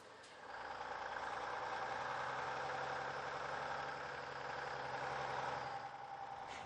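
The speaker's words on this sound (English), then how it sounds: "The moment the engine kicks into life" A truck engine starts and settles into a steady, droning idle, a continuous mid-pitched rumble held evenly at moderate distance with no talk over it.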